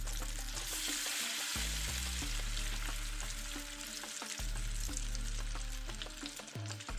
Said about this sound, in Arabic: هلأ هون نزّلت البصلة اللي عندي اللي قطّعتا مكعبات، نزّلت البصلة وهنطّقيها